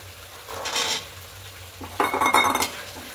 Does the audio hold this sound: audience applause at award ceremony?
no